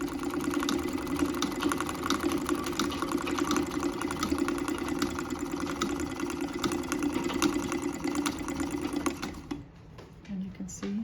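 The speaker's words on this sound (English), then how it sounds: "this is a lovely little chain stitcher" A 1914 Singer Model 24 chainstitch treadle sewing machine stitching steadily and fairly close, a continuous mechanical whir with rapid clicking, running for about nine seconds before stopping, leaving faint room sounds.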